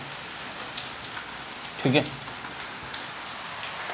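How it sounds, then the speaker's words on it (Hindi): Rain falls steadily outside during an indoor maths lesson, making an even hiss throughout, and someone briefly speaks once over it. "बारिश हो रही है"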